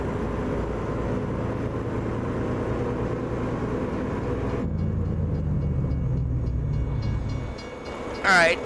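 A train in American Truck Simulator rumbles past loud and close, a thick rolling clatter that shifts abruptly halfway, then fades out, followed by a brief burst of speech.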